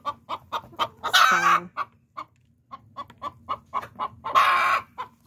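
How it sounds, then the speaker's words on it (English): A hen clucks in a steady series of short, close clucks, with two louder, drawn-out squawking calls breaking in; a brief spoken word is heard. "this is a perfect example of a broody hen"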